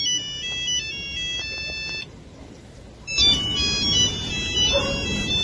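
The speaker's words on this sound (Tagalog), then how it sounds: "Uy, may tumatawag po ito sa telepono niya." A phone ringtone for an incoming call plays a repeating electronic melody, breaks off briefly, then starts up again louder and denser over some background noise.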